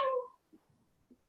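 A person imitates a cat's meow during a cat-cow stretch in a Pilates class, one short, clear, close meow followed by a couple of faint soft sounds.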